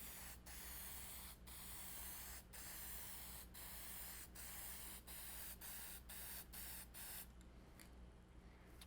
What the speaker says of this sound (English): we'll go ahead and coat the back side of it